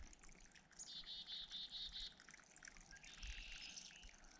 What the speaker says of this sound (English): Can you guys hear birds?